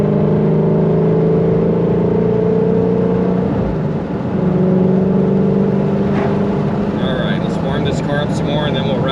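A Ford GT350R engine climbs in pitch under load, dips briefly at a gear change, then pulls again, loud and close, with a few short clicks near the end and no talking.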